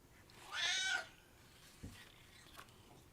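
A pet cat lets out one loud, drawn-out meow close by, followed by quiet room sounds and a couple of faint knocks.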